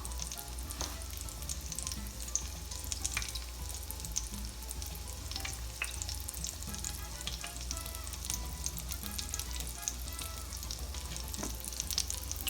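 Black bean cakes coated in cornmeal frying in hot canola oil over medium-high heat, a continuous close crackling sizzle with scattered pops and spits, steady and unbroken with no talking.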